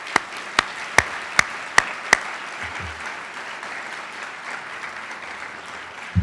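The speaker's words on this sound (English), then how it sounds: "A round of applause for our scholars" An audience at an honors college medals ceremony applauds for the scholars: a run of sharp, separate claps near the start over a soft, sustained patter that carries on evenly to the end, with no talk.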